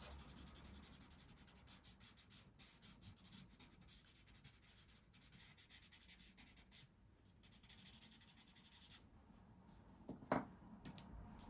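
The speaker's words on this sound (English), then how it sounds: "I can just go in with my pencil lightly" A pencil lightly shades and blends on paper, making soft, continuous scratchy rubbing strokes, quiet and close, with a few sharper scrapes near the end.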